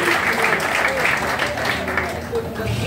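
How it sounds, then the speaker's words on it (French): An audience claps loudly and steadily at an award ceremony for artists, comedians and cameramen, with voices murmuring faintly beneath the applause. "Sous vos applaudissements."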